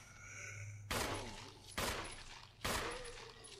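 Three sharp gunshots aimed at a zombie in the Resident Evil video game, evenly spaced a little under a second apart and loud, each with a short ringing tail over a low game hum.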